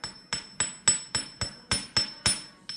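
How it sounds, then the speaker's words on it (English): A small hammer strikes jewelry wire on a steel bench block while making earring ornament hooks: about ten crisp, bright, evenly spaced metallic taps, close and clear with no talking. "give it a little hammer"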